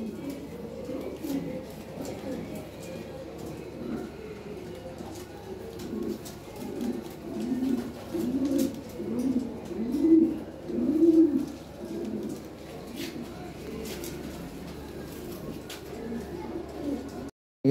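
Lahore Siraji pigeons cooing in soft repeated low murmurs at a sale, steady and near, with people talking faintly underneath.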